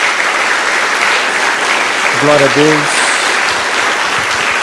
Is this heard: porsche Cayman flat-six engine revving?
no